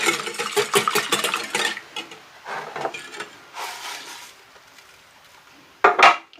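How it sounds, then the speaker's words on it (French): Eggs being whisked with brown sugar in a bowl for a courgette chocolate chilli cake, quick rapid scraping strokes in bursts, then a pause and a final short flurry, close and without talk. "on casse nos œufs, on fouette et on va mélanger notre cassonade à nos œufs"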